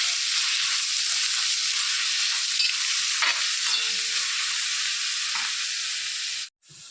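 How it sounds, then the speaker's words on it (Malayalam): Clam meat and chili curry sizzles steadily in a pan over medium flame while being stirred, with a loud, continuous frying hiss and occasional soft scraping, alone without talk, cutting off abruptly near the end. "എന്നിട്ട് നന്നായിട്ടൊന്ന് ഇളക്കി ഒലിപ്പിക്കുക."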